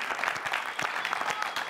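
Studio audience at a television game show claps in a dense, lively burst of applause, close and steady for its short length.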